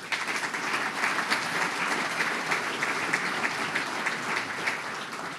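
Sustained applause fills a hall at a ceremonial key handover after a school renovation, a steady, fairly distant wash of many hands clapping at an even level.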